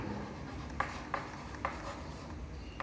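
An equation being written on a board, with a faint continuous scratchy rub and three or four brief marker or chalk strokes, quiet and close with no talking.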